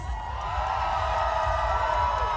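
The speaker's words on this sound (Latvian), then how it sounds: "Dāmas un kungi ar skaļākajām ovācijām!" A festival crowd at Positivus 2025 cheers and whoops in a steady, dense roar, with a low rhythmic thump underneath, lasting throughout.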